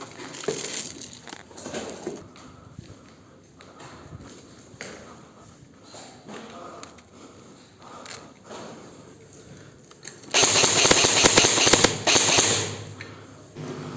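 Airsoft guns fire during an outdoor skirmish at a scout camp, scattered soft pops and footsteps giving way to a loud, sustained rapid burst of automatic fire late on.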